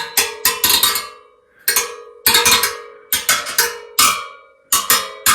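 Tensioned wire spokes on an NSU ZD 201 motorcycle wheel are tapped one after another, each strike giving a bright, ringing metallic ping that decays quickly, in uneven clusters of close, clear hits with no talking.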